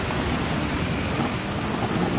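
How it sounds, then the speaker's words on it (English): Heavy rain with a thunder-like rumble in Gran Turismo 7 during a GT3 race, a dense, loud, unbroken roar of broadband noise with no distinct events. "Now that's some rain."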